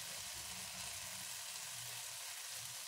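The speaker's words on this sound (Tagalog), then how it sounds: "Gisahin hanggang sa ito ay lumambot." Tomatoes sautéing in a pan, a soft, steady sizzle and hiss of frying that stays faint and even throughout, with no talking.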